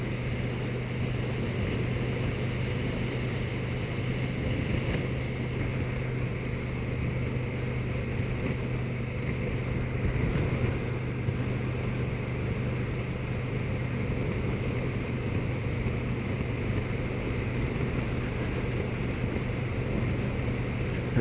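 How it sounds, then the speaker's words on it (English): Constant roaring wind buffets a helmet on a 2020 KTM 1290 Super Duke GT motorcycle at speed on a very windy day, a loud broadband rush with a low engine drone underneath, unbroken for the whole stretch. "it's very, very windy, as you probably can hear compared to my other videos through the helmet"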